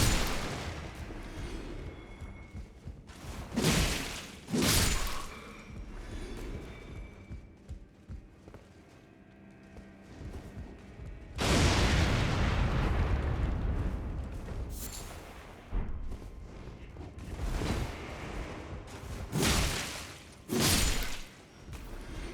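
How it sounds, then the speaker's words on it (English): Fire bombs bursting in Elden Ring, a series of heavy booming explosions arriving in irregular clusters with deep rumbling between them and no talk. "Two of them throwing fire bombs at me."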